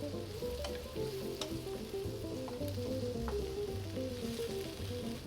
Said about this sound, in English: So I'm just gonna cook this until the veggies get a little tender